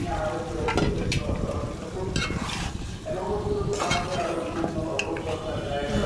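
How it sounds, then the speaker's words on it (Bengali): Chicken pieces being stirred and braised in a pan, with a steady sizzle of frying and repeated scraping strokes of a utensil against the pan, close and continuous throughout. "মুরগির গোশতটা ভালো করে কষিয়ে নেব।"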